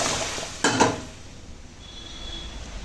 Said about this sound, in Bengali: এবার সিদ্ধ করা ডাল দিয়ে দিলাম